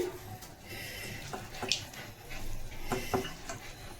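Fish go into hot oil one at a time with eggplant and coriander in the pan, a soft steady sizzle broken by brief clinks and scrapes of a utensil against the pan.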